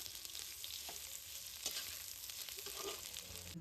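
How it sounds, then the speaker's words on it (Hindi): Bamboo shoots and cooked onion stirred in a hot frying pan, giving a steady close sizzle with scattered scraping clicks from the spoon throughout, and no voices. "अब इसमें डालेंगे बम्बू, ये बांस, ये देखिए जब अच्छे से चला लेंगे इसे।"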